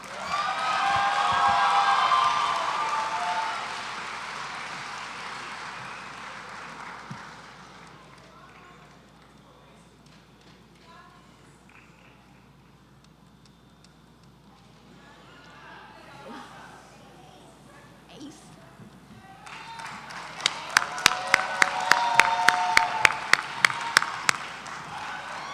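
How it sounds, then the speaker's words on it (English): Audience applause at a UCR Black graduation ceremony as a poet comes forward: a broad wash of clapping at the start eases away, then returns as sharper, more distinct claps near the end. "give him a round of applause as he comes forward"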